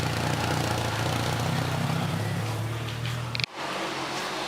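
A car with an aggressively cammed engine rumbles loudly at a JDM car meet in Singapore, a deep continuous low drone that dips briefly near the end before picking back up.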